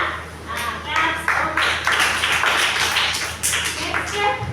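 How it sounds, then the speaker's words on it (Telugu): A group at a Christian birthday celebration for Jesus claps for a few seconds after a gift is shown. The dense patter of hands is mixed with voices talking. "క్లాప్స్"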